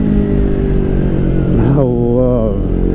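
A Yamaha R3 motorcycle fitted with an Akrapovič GP slip-on exhaust, its engine droning steadily and loudly up close, then a quick blip where the pitch jumps and settles into a harmonic burble.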